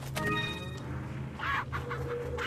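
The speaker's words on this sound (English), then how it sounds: "Hey, hey, hey, chicken, get back here!" A chicken clucks in Resident Evil 4 VR, giving a quick burst of squawking clucks over a low steady game ambience, then a few softer clucks after.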